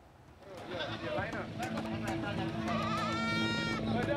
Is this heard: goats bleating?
yes